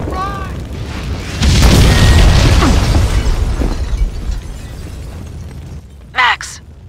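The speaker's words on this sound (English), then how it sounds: "The building's blowing up." Building packed with explosives blows up in a loud, sustained rumbling blast that rolls on for several seconds and slowly fades, with a brief sharp burst near the end.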